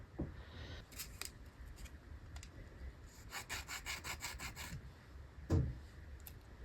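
Soft, close rubbing and scratching of a soaked seed at low volume, with a few short rasping strokes and one brief louder bump near the end, no voices.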